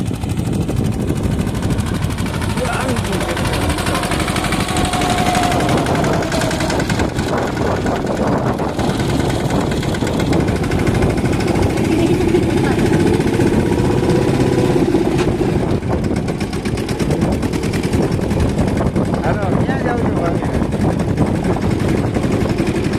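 A tractor engine runs steadily while sowing a field in rainy weather, its loud, continuous mechanical drone filling the whole stretch without a break.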